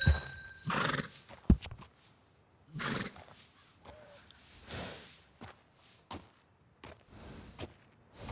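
A horse in Red Dead Redemption 2 neighs and snorts in several loud bursts, mixed with hoof clops and shuffling in a quiet frontier setting, with no speech.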